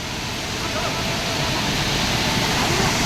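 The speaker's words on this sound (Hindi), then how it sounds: "गिरत पानी है झरझर झरझर" A waterfall at Siyadevi temple in Balod sends up a steady, dense rush of falling, splashing water that stays loud and unbroken throughout.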